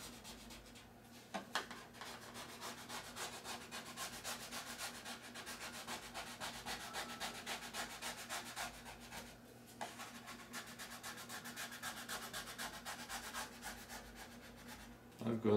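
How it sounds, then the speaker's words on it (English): Decal insignia edges being burnished down on an RC aircraft, heard as a faint, continuous close rubbing and scraping with a few light taps, no voices. "Burnish down the edges and particularly any corners."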